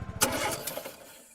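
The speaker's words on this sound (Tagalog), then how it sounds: "nang paandarin ko ang motor, biglang namatay ito" A motorcycle engine cranks with a quick burst of rhythmic putters, catches briefly with a loud roar, then fades out as it stalls within about a second, heard alone.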